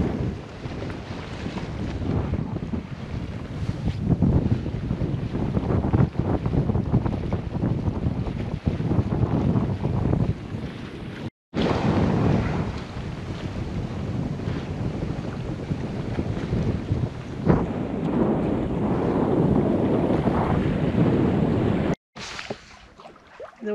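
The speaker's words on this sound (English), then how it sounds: "The wind is puttering out." Steady wind rushes over a sailboat under full sail off Newfoundland, near St. George's Bay, with water wash underneath; the loud, continuous buffeting breaks off twice for a moment, with no talking.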